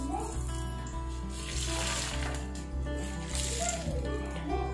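A hot oil tempering sizzles and crackles steadily as it is poured over rice, against a constant low hum, the frying hiss rising and falling over a few seconds.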